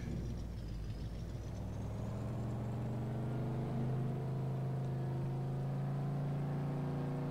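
A truck with a 350 engine drives in Farming Simulator 22, a steady, loud engine drone held and pushed harder on a straight road, with no talking over it.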